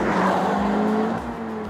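A 2017 Honda Civic Type R accelerates hard in R mode, its engine roaring loud and steady from inside the car with a rising tonal drone and some road and tire noise.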